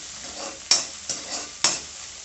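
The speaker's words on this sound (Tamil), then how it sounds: "வெங்காயம் நல்லா வதங்கட்டும்." Onions and curry leaves sauté in a pan for egg rice, giving a steady soft sizzle with three sharp stirring scrapes of a spoon against the pan, all close and without talk.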